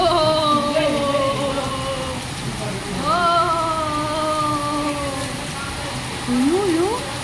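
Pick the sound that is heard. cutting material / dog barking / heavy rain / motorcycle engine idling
heavy rain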